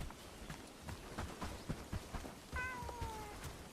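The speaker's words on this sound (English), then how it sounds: "Oh, we gotta pet the cat." A cat gives one clear, falling meow in the snowy winter world of the game Bellwright, over soft footsteps and light background noise.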